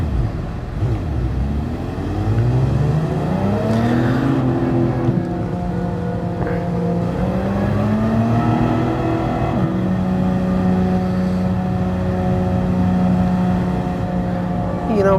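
A race car engine in Gran Turismo Sport revs up through the gears, pitch climbing and dropping with each shift, then holds a steady high drone, loud and continuous.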